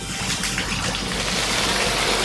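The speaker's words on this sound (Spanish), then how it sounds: "Y por último, le vamos a agregar un poquito de agua." A little water poured into orange and lemon juice for a Christmas pork tenderloin sauce, a close, steady splashing pour lasting a couple of seconds with no talking over it.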